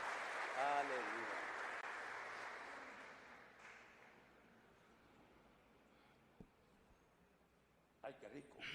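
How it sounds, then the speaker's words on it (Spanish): A church congregation applauds in praise, steady clapping in a reverberant hall that gradually fades over several seconds, with a voice briefly heard near the start and a few scattered claps at the end. "Damos un aplauso al Señor"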